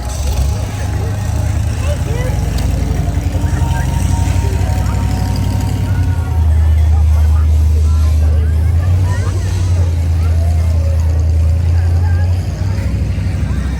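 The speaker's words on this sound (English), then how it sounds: "That sound, that truck is the monster truck, which is currently on the beach." A loud, low monster truck engine rumble drones throughout, heavy and steady, with crowd chatter and outdoor noise from the Wildwood boardwalk at night mixed in around it.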